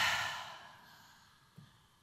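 A single slow, deliberate exhale fades out gradually, close and soft, with a faint click near the end and no talking.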